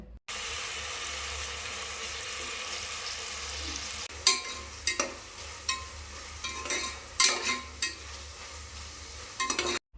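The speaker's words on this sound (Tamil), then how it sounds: "வெங்காயம் தக்காளி நல்லா வெந்து வரட்டும் ஒரு நிமிஷத்துக்கு" Onion and tomato frying in oil for veg kuska, a steady close sizzle running throughout with occasional stirring clatters and scrapes rising above it in the second half.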